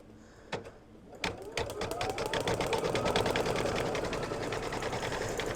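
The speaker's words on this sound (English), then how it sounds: "And then I'm just going to stitch the stripes, which are also gold." An embroidery sewing machine stitches gold stripes in a rapid, steady chatter of needle strokes that builds after a couple of opening clicks and then runs evenly up close.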